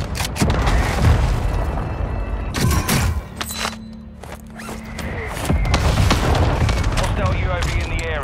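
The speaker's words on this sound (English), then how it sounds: "Mortar strike on the way." Mortar strike explosions in the video game Warzone 2 on Ashika Island, several heavy booming blasts in quick succession with a brief lull between, loud and near, with a radio voice speaking over parts.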